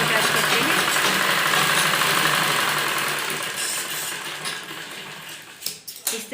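A sewing machine stitches a blouse button strip, a loud steady mechanical whir with rapid needle clatter that gradually slows and stops, ending in a few separate clicks and knocks.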